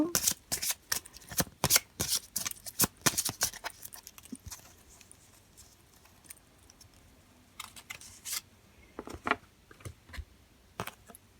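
Tarot cards are shuffled by hand close up in repeated bursts of crisp riffling and slapping, busier at first, quieter in the middle and picking up again toward the end, with no speech.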